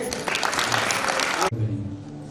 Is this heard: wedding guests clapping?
yes